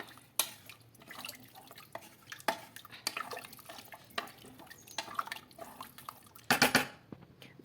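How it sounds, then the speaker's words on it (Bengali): Water poured into a pot of chicken stew, followed by stirring: faint splashes and drips, soft spoon scrapes against the pot, and a brief louder slosh near the end, close by and with no speech. "জল দিয়ে দেবো এবার জল দিয়ে ভালো করে নাড়িয়ে দেবো এটাকে"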